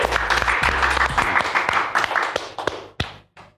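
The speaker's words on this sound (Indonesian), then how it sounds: "beri tepuk tangan yang meriah untuk" Lively audience applause for a comedian at a stand-up comedy show, a dense burst of clapping with cheering tones underneath that thins into a few scattered final claps and then stops.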